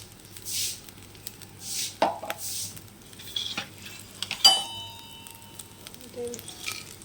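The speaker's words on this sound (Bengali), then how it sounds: "গোটা গরম মশলা সবগুলো দিয়ে দেবো। একটু নাড়তে থাকবো।" Whole garam masala fries in oil in a wok, a faint sizzle under scattered scrapes and clinks of a spoon stirring, with a low steady hum in the background.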